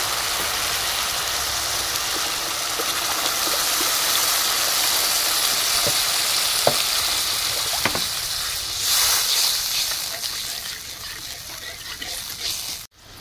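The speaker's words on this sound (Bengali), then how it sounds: "সর্ষে পোস্তটা দেওয়ার পরে ঠিক 30 সেকেন্ড পর আমি এখানে জল অ্যাড করে দিচ্ছি।" Water poured into a pan of hot mustard and poppy seed paste for a fish curry, giving a loud, continuous rushing hiss and sizzle that thins out before a sudden stop near the end.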